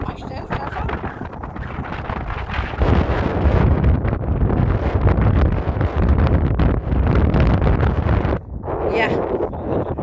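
Strong wind buffets the microphone with a loud, continuous roar and rumble that swells in gusts and eases near the end.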